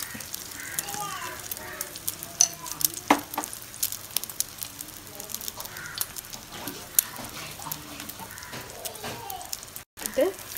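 Sliced onions fry on a pan for a bread omelette, giving a steady, moderate sizzle with occasional sharp crackles and clinks, under intermittent talking.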